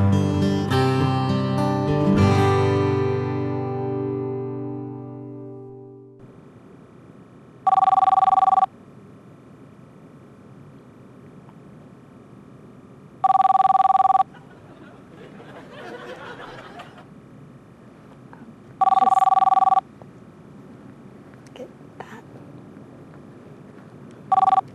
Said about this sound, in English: Yes, this is Pastor Greg's phone